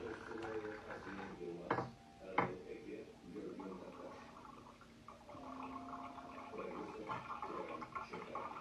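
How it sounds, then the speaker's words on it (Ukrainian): Water pours from an opened tap in a Donetsk home amid water shortages, a steady rushing flow with faint clinks, close by, while a voice speaks over it. "Открываю кран."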